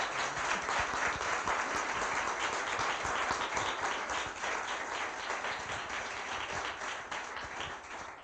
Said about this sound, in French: je voudrais avoir vraiment un tonnerre d'applaudissements pour monsieur Damien Delossier, vraiment.